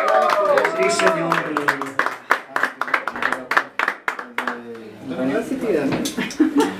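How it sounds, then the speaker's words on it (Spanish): Applause for Jaime rises at a family birthday party with mariachis, scattered sharp claps ringing out among people talking and calling out over it. "aplauso muy bonito para Jaime, que se escuche familia"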